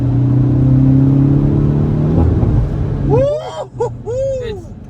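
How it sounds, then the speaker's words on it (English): A Hyundai Veloster N holds a steady droning engine note, then downshifts with a sudden rev swell followed by sharp crackles and pops from the muffler, loud and close inside the car. "All I did was downshift, and I had to brake because of the clutch. You just hear that muffler just. It's got a nice crack"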